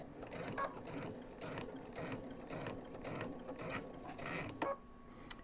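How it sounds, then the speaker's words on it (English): A sewing machine runs in short bursts while stitching binding onto a quilt at a shortened 1.6 mm stitch length, a steady close mechanical whir with brief pauses between runs and no talk. "I go to my sewing machine"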